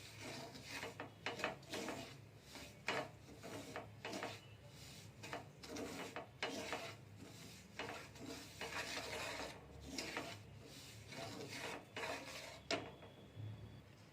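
Semolina (suji) dry-roasting in a pan for upma, stirred with a utensil: faint, steady scraping and rubbing strokes in a loose rhythm, with a light sizzle underneath.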